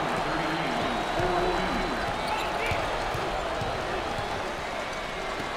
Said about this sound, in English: The crowd is thunderous.